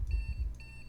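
A fire alarm at home beeps in a quick, faint repeating pattern over a low rumbling background, with no talking.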